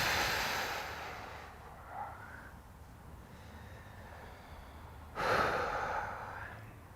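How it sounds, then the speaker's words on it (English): Slow, deep breaths during a workout stretch: a long exhale fades out, then quiet, then a sharp airy inhale near the end, close and fairly soft. "Breathing deeply."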